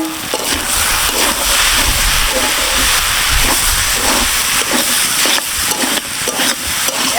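Jackfruit and prawns simmering in a covered pan, with a loud, steady steamy hiss and a faint bubbling crackle as the lid is lifted, continuous throughout.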